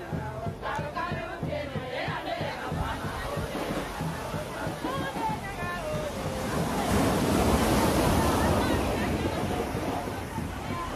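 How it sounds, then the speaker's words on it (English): Atlantic Ocean waves roll in at a hotel patio on the water in Senegal, a broad washing roar that swells toward the end, with wind and someone speaking over the first half. "If you guys hear the waves in the background and the sea, that's the Atlantic Ocean."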